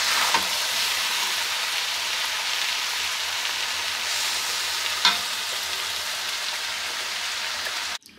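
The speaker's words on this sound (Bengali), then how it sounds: "কচু শাক রান্না করার জন্য যে কড়াইয়ে তেল বসাই দিছি, গরম তেল হয়ে গেছে।" Hot oil in a home kitchen wok, heated for cooking taro leaves, gives a loud, continuous hissing sizzle for about eight seconds, with a brief clink partway through and an abrupt stop at the end.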